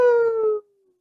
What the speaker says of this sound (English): Then a strange howl freezes you in your tracks.